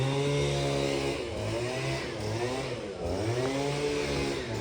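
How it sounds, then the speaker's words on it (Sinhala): A chainsaw cuts trees near Kruja Castle, its engine droning loud and close throughout with pitch rising and falling as the load on the blade changes. "මේ මිනිස්සු මේ ගස් කපන හද්දි තමයි මේ ඉන්නේ."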